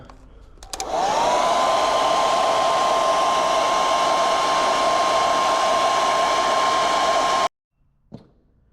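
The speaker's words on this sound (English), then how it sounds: "for that heat wrap, tightening it down, I just use my wife's hair dryer" A hair dryer switches on and runs loud and steady for about six seconds, used to heat and shrink heat-shrink wrap on weighted copper fishing line, then cuts off abruptly, leaving a brief faint clunk.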